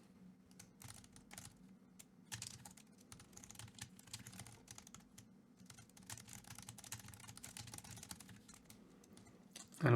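Code is typed on a computer keyboard in rapid, uneven bursts of soft key clicks, close and fairly quiet over a faint low hum, with short pauses between runs and no speech.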